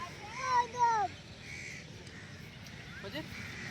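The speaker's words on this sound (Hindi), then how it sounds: "मोहम्मद हसन कौवे को मार रहा है" A crow caws twice in quick succession nearby, fairly loud, then a fainter call follows later over a low background murmur outdoors at Lahore Fort.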